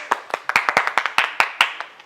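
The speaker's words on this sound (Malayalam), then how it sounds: "കൈയടി" Rhythmic clapping from a small group at a treasure-hunt game show, about a dozen sharp, evenly spaced claps close by, with no talk over them.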